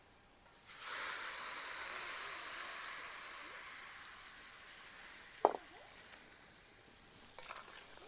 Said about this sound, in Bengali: তেলটা গরম থাকার জন্য এই রকম আওয়াজটা হলো।